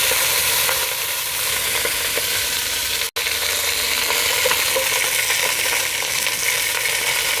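Bratwurst sausages browning in a frying pan for choucroute garnie, a loud steady sizzle that runs unbroken apart from one brief instant of dropout.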